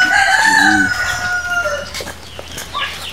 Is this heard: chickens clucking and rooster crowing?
yes